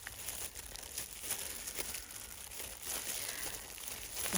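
A plastic bead package is opened, giving soft, irregular crinkling and rustling at close range, fairly quiet and steady, with no voices.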